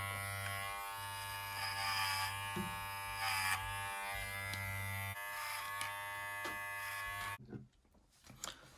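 A custom Edo Magic Clip hair clipper running at 7,600 RPM gives a steady, close electric buzz for most of the clip, then cuts off into faint handling noise.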